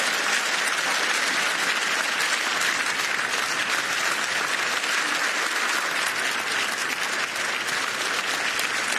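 A large European Parliament audience breaks into loud, sustained applause, dense clapping filling the hall without pause for the whole span.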